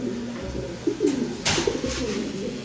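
A racing pigeon coos nearby in a loft, a few soft throaty burbling calls, with brief louder rustling or wing flaps between them.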